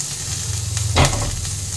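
Onion and ginger sauté in a pan on a gas stove, giving a steady close sizzle with a single brief scrape or stir near the middle, no voices.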